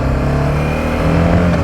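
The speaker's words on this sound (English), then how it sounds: "A little bit of California mid-afternoon traffic here as we're in downtown Solana Beach" Mid-afternoon traffic rolls through downtown Solana Beach, California, heard from a motorcycle: a loud, steady engine drone with vehicles revving and passing close by, and no talking.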